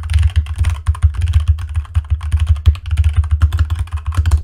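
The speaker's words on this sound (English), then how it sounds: "we're going to be testing a keyboard in front and behind the microphone" Fast typing on a computer keyboard directly in front of a HyperX SoloCast USB microphone, with loud, close, continuous rapid key clatter and no talking.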